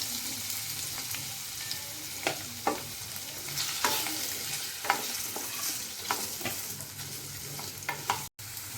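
Potato pieces fry in a pan of hot oil over a medium flame, giving a steady soft sizzle broken by sharp clicks and scrapes as a spoon stirs them.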